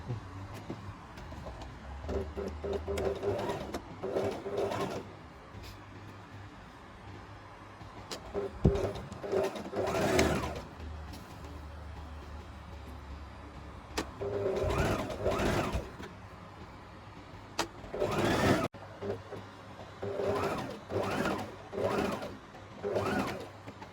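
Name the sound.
sewing machine stitching a skirt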